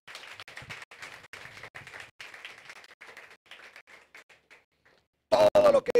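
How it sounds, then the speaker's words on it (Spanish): A church congregation claps during a Sunday sermon, a fairly light, scattered round that tapers off into silence before a loud burst of amplified voice cuts in at the end. "¿Alguien le da un aplauso a Jesús?"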